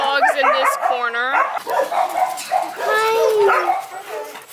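Shy shelter dogs in a corner of a dog care facility whimper, yip and bark repeatedly and close by, with high whining cries rising and falling between short barks.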